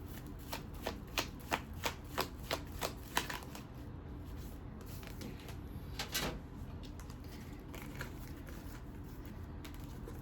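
Tarot cards being shuffled in a quick run of crisp riffling flicks, then a pause and a few more scattered shuffles, close and quiet, with no one speaking.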